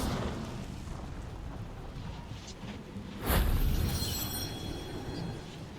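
A Confringo blasting spell explodes in the Hogwarts Legacy video game, one sudden loud burst after a low rumbling stretch, then a crackling, ringing tail fading out.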